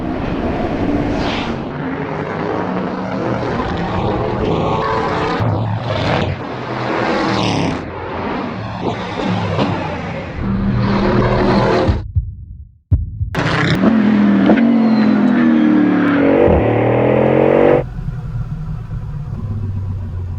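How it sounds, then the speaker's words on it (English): A loud engine roars continuously as a Bugatti Bolide hypercar accelerates and shifts on a track, with a brief sharp drop near the end before the high-revving drone resumes. "This car really does react like a proper race car."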